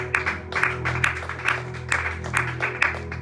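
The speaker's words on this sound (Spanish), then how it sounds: "Regálele un aplauso al Señor." Congregation applauding the Lord during a church service, sustained clapping that pulses in rhythmic surges over a steady low musical drone.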